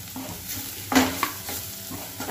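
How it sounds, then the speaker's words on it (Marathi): Green chilli and crushed peanuts are stirred in a hot pan while making papad chutney, giving a soft steady sizzle with a few sharper scrapes and knocks of the spoon against the pan. "1-2 मिनिटासाठी आपल्याला हिरवी मिरची आणि शेंगदाण्याचं कूट परतून घ्यायचं आहे"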